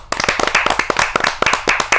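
Audience at a Hindi kavi sammelan poetry gathering clapping to welcome a woman poet to the stage: a dense run of sharp, fairly loud hand claps with a steady rhythm, close and unbroken, with no talking.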